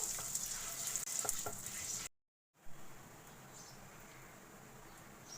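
Asafoetida and spices frying in oil in a pan while being stirred: a steady crackling sizzle with scraping stir noises, a brief silent break, then a quieter, even sizzle continuing alone.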